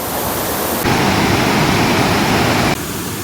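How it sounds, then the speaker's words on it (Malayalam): Jayapuram waterfall at Munnad running strongly with plenty of water, a loud, continuous broadband roar that jumps up in level partway through and then drops back. "ജേവരം വെള്ളച്ചാട്ടം, നല്ല രീതിയിൽ വെള്ളം വന്നു."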